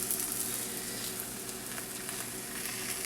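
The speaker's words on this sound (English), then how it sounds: "move this batter, as you can see, in a circular motion" Thin batter for a seafood beggar's purse is swirled around a hot pan, producing a steady, close, hissing sizzle that holds even throughout.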